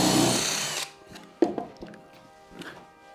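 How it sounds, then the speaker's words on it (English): A power drill whirs briefly, pre-drilling into wood while building a workbench, then stops, followed by a few light knocks and taps of tools nearby. "I'm just going to pre-drill."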